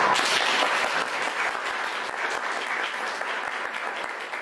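An audience applauds panelists at a talk on inclusive programming for children with disabilities: steady, dense clapping that holds at an even level throughout, with no speech over it.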